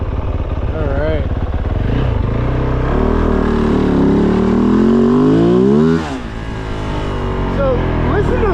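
A Kove 450 dirt bike with advanced ignition timing revs hard and close on a graded dirt road, its engine note climbing and falling through several sweeping pulls.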